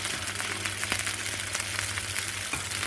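Maccheroncini, poured into melted lard (sugna) in a pan, sizzle and fry with a steady, close, crackling hiss, a few sharper pops along the way and no voices.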